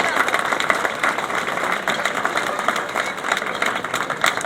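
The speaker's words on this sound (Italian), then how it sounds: "vorrei soprattutto che voi faceste un grosso applauso a queste nuove generazioni" An audience claps at the inauguration of the Antica Fiera di San Gregorio, a dense, continuous wash of many hands close by, with no pause.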